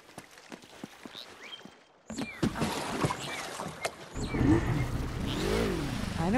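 A watercraft's engine in Uncharted: Drake's Fortune Remastered, set in the flooded Drowned City, kicks in after a quiet stretch and then drones and revs steadily, with the pitch rising and falling as it speeds over the water.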